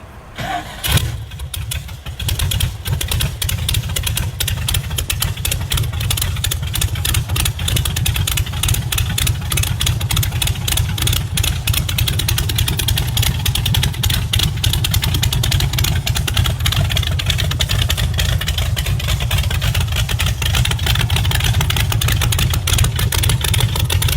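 A twin-engine VW Type 3 Squareback gasser cranks and fires within the first couple of seconds, then runs on at a loud, steady, close-up rumble that continues for the rest of the clip with no talking.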